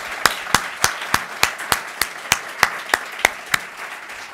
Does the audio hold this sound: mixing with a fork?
no